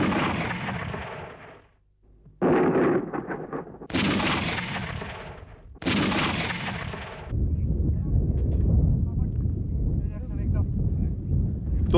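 Artillery cannons of a regiment fire several heavy booming shots in separate bursts, each with a long rumbling tail, followed by a sustained low roar and wind noise.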